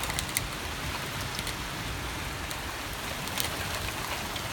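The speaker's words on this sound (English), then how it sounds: "It's blowing the rain around like crazy" Dense, steady hiss of heavy wind-blown rain in a major thunderstorm, constant and fairly loud, with occasional brief spatters breaking through the wash of noise.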